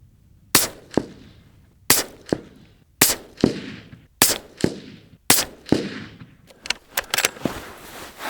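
Accuracy International AXSR sniper rifle firing Hornady factory ammunition: six sharp, loud shots spaced about a second apart, each with a short echo tail, then a few smaller clanks at the end.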